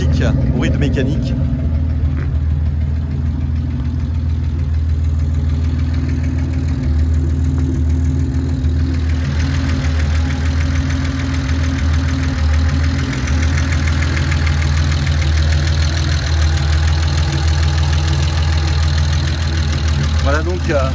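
A Jaguar XKSS replica engine idles close by with a steady, loud low rumble and slight knock that runs unbroken for the whole stretch, while a voice speaks briefly over it.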